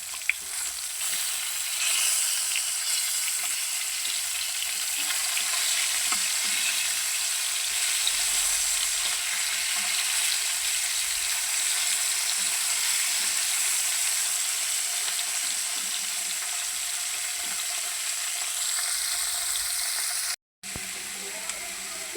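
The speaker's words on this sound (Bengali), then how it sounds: "মাছটি আমি আগে বাইজা নিতেছি" Tilapia fish fries in hot oil with a loud, steady sizzle and crackle that continues throughout, briefly cut off near the end.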